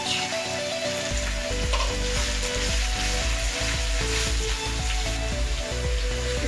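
Beans, carrot, cabbage and capsicum stir-frying in a hot pan for veg noodles, a loud, steady sizzle close up with repeated rhythmic stirring scrapes and clatters throughout, no talking.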